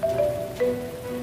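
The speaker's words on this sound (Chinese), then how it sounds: "下雨了" Rain falls steadily in an outdoor drama scene, a soft even patter with faint tonal sounds running through it.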